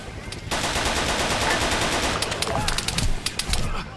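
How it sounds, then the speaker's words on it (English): Enemy gunfire in the Vietnam-era Arma 3 game, rapid automatic bursts crackling steadily and fairly loud, with sharper individual shots cutting through. "These guys now opening fire across the way."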